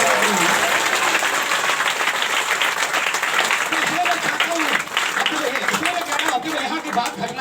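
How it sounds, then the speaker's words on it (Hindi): Audience applause at a Hindi-language Christian sermon, dense continuous clapping filling the whole stretch at close range and fairly loud, with crowd murmur beneath. "ताली ताली बजा के"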